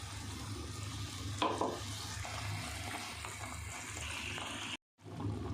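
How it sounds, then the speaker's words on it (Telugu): Tomato puree hitting hot oil in a pan, giving a steady soft sizzle with stirring and scraping, a brief louder splash early on, fairly quiet overall and close up. "చూడండి టమాటా మిక్సీ వాటిని వేసిన."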